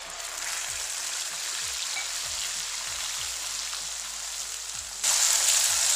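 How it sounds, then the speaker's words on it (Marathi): Onion puree sautés in hot oil left over from frying koftas, giving a steady, close sizzle with soft low thuds recurring throughout, and the hiss grows louder and brighter near the end. "आता हे छान परतून घ्यायचं, कांद्याचा कच्चेपणा गेला पाहिजे."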